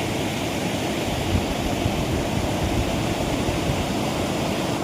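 The flooded Singarayapalli stream rushes past after two days of heavy rain, a loud, continuous broadband roar of churning water with no pauses.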